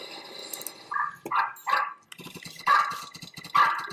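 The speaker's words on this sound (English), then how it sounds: "Sorry, you gotta deal with a bit of barking in your video" A dog barks repeatedly in loud, close bursts, with short pauses between the barks and no talking underneath.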